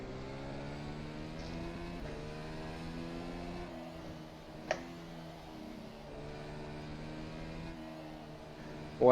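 An F1 2020 FSR car's engine drones in rFactor 2 at Suzuka, a steady close harmonic whine shifting gradually in pitch, with a sharp click midway and a sudden loud rise at the end.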